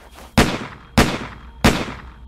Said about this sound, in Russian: Крис выстрелил